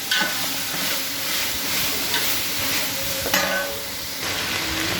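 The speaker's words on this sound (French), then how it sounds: "Et là, on va rajouter le riz." Rice tossed into a hot wok with vegetables and reduced sauces for Cantonese fried rice, giving a steady close sizzle and hiss with scraping stir strokes and a couple of sharper clanks, no talking.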